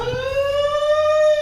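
A loud fire alarm sounds as a steady electronic tone that rises slightly and holds, with a brief low thump near the start and no talking.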